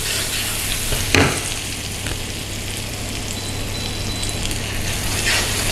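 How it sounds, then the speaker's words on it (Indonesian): Onions sautéing in a hot pan for spaghetti carbonara, a steady dense sizzle and crackle throughout, close and fairly loud, with a brief stir or clatter near the start and no talking. "bawangnya kita tumis."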